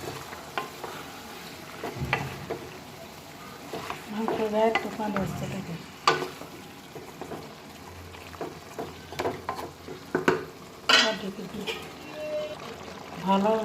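A spatula scrapes and stirs food in a sizzling pan, with irregular clinks and scrapes over steady frying; a voice speaks briefly.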